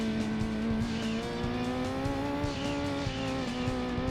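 A rally car drifting in Gran Turismo 2 on a forest mountain track, steady engine drone with a sustained tire squeal, continuous and close with no talk.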